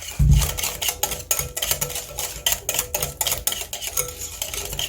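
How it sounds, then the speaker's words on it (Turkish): A spoon stirs softened butter or margarine with salt in a bowl for baking-powder poğaça dough, making steady, close, rhythmic scraping and clicking against the bowl with no voices. "Karıştırıyoruz."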